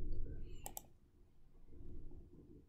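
Computer mouse clicks while someone navigates class results in software, giving a quick close pair of sharp clicks in a quiet room with low background hum.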